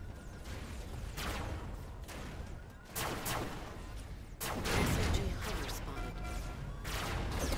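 Gunfire in the game RoboCraft, bursts of loud, close shots and crashing impacts in irregular clusters, with rumbling battle noise between volleys and a voice speaking over it.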